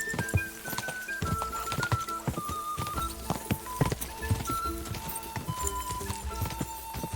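Rapid, rhythmic hoofbeats of a horse galloping in the video game Kingdom Come: Deliverance II, close and steady for the whole stretch, with a faint musical tone and birdsong in the background.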